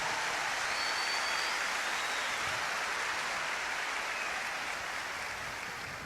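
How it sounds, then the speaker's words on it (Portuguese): Sustained audience applause at a church prayer service led by a priest, a dense, steady patter of many clapping hands that holds at an even level and fades slightly toward the end, with no voices over it. "pode aplaudir e agradecer a Deus"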